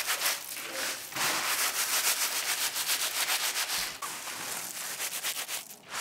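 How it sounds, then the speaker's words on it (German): Dried sunflower heads are rubbed over a grid stretched across a bucket to loosen the seeds, making close, continuous rasping scrapes in quick back-and-forth strokes with no talk. "Man kann auch ein Gitter über einen Eimer spannen und die Blütenköpfe daran reiben."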